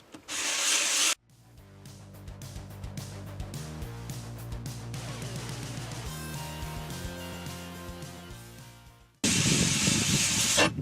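A C123 oil pump part is polished smooth by rubbing, with bursts of harsh, loud scraping at the start and end. Between them is a quieter stretch of softer rubbing under steady tonal drones, and no one talks.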